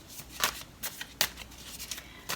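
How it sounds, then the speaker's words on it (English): Tarot cards are shuffled by hand in a series of sharp, crisp riffles and slaps, spaced irregularly with quiet gaps between, close and clear with no talking. "that's way too many cards to use, so we are going to have to shuffle these all back in"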